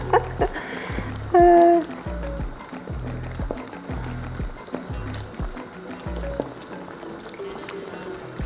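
Thick peanut sauce with sweetcorn bubbles and pops in a pot, a steady low burbling with one brief tonal whine near the start.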